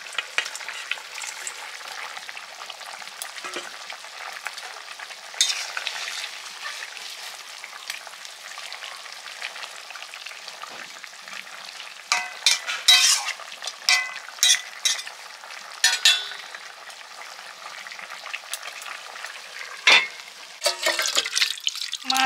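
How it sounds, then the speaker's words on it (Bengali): Fried fish drop into a boiling curry with pui stalks, setting off a steady close sizzle and bubbling, with sharper spits and stirring clatters later on. "ভাজা মাছগুলো দিয়ে দিচ্ছি, ঝোল ফুটে গেছে।"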